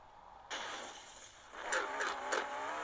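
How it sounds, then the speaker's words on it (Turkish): A car engine strains and revs as the car is forced up a steep off-road climb. The sound is faint and distant, starting abruptly and swelling in a few uneven surges. "Şimdi buralardan biraz zorlayacağız arabayı."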